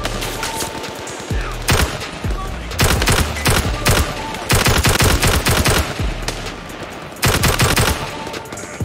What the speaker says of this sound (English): Maybe full auto is not the best, but it is hilarious.